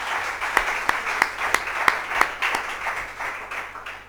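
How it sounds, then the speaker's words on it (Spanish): An audience applauds at the close of a Spanish-language health talk about exercise and staying young: a steady wash of clapping, with several sharper individual claps standing out close by at a loose, regular pace. "yo les pido un fuerte aplauso"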